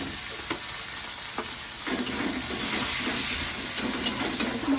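Onion, tomato and ginger paste frying in a pan, a close sizzling hiss broken by repeated scraping stirs and clinks, growing a little louder partway through, with no talking.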